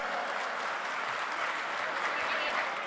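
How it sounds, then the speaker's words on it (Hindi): An audience at a political centenary celebration applauding to welcome a guest: a dense, continuous wash of many hands clapping, steady and fairly close, with no talk. "जोरदार तालियों से आपका स्वागत है।"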